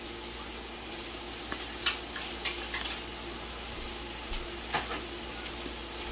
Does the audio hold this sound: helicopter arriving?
no